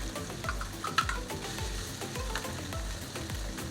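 Garlic fries and is stirred in a pan with chicken, a soft steady sizzle broken by regular low scraping strokes of the utensil, near and fairly quiet.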